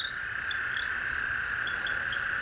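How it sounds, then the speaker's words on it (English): Geckos in Austin, Texas give small high chirps, a few brief faint calls scattered over a steady nighttime chorus of toads. "That's not a cricket. That is actually a gecko."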